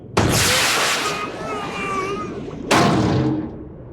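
A torpedo sound effect plays in a comedy skit, with two heavy booming whooshes at the start and near the end. Each starts with a loud thud and then rumbles and fades. Voices talk between the booms.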